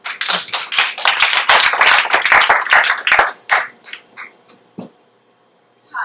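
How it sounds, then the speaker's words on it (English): A round of applause at a neighborhood meeting: dense, close clapping from a room of people for about three seconds, then thinning into a few scattered claps before falling silent. "they all do a round of applause"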